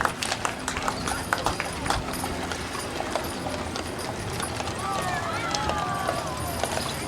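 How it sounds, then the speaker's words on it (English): A pair of Belgian draft horses pull a genuine Studebaker wagon along a small-town centennial parade route in Winifred, Montana, their hooves clip-clopping steadily on the pavement over crowd noise and a commentator's voice. "pair of Belgian horses, and a genuine Studebaker wagon"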